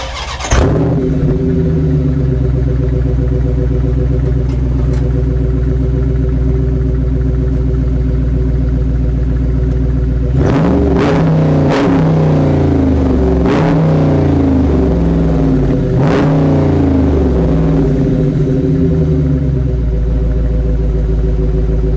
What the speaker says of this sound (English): As you guys can hear, that V8 sounds very damn good.